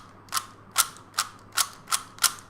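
A Gans 356 Air SM speed cube clacks through six quick, evenly spaced turns, each a crisp plastic snap heard up close and alone.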